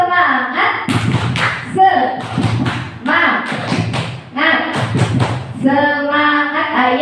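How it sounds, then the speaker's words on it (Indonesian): A group of students claps a rhythmic 'tepuk semangat' cheer in a classroom session, loud bursts of patterned clapping with chanted voices between and over the claps. "coba Ustazah biar tidak ngantuk, kita tepuk semangat dulu yuk"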